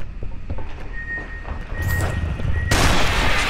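Gunfire in the video game Aliens vs. Predator, with a sustained tone and low rumble building into a loud, broad burst of firing in the last second, heard close and alone.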